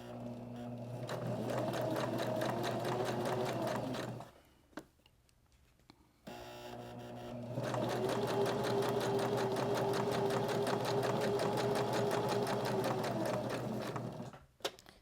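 A sewing machine runs a very narrow zigzag stitch on a fabric strip for a portable tic-tac-toe game, humming with steady rapid ticking in two long bursts separated by a brief pause.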